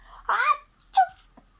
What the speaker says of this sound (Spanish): Yo estornudé.